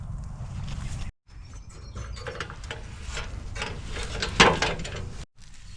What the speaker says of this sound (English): we've just got to swing this jerry can holder out the way and lower these tyres